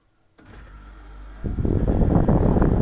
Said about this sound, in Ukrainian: Інша справа ось цей мобільний кондиціонер.